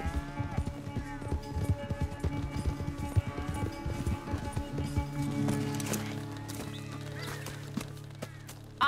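Horse hooves gallop in Red Dead Redemption 2, a fast, steady clip-clop drumming near and loud under engine-like game ambience, easing off in the final seconds as someone talks over it.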